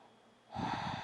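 A slow, audible breath drawn in and out while holding a single-leg yoga bridge with the ankle crossed over the opposite thigh. Quiet at first, then a close, breathy exhale-like rush fills the second half.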